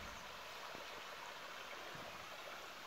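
A small outdoor stream flows through vegetation, giving a steady, even rushing murmur that holds constant throughout at moderate distance.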